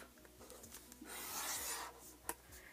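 A scoring tool rubs and rasps along a cardboard box, a short scraping stroke that swells in the middle, followed by a small sharp tap near the end.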